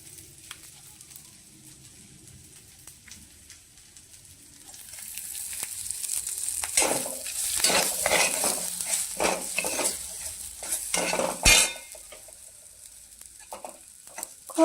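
Onion and tomato sauté in a pan, starting as a faint low sizzle that swells into steady frying with repeated spatula scrapes and clanks against the metal, close and without speech.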